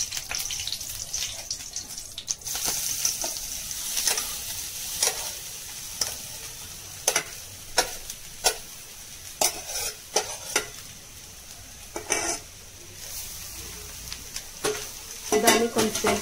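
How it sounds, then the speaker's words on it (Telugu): Grated coconut fries in ghee in a kadai for coconut jaggery laddu, a soft continuous sizzle broken by repeated spatula scrapes and knocks against the pan. "నెయ్యి కొద్దిగా తరిగాక అందులో మనం తురుముకున్న కొబ్బరి తురుము వేసుకోవాలి"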